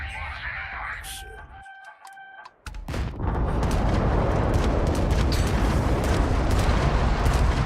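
Gunfire and explosions in the video game Starfield, a dense continuous barrage of booms and bursts that erupts after a brief quieter stretch, loud and sustained.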